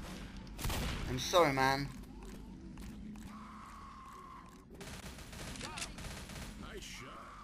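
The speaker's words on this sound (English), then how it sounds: "I'm shooting this bastard." Gunfire rattles in the Left 4 Dead video game, a dense burst of rapid shots early on followed by scattered game effects, with a voice speaking over it.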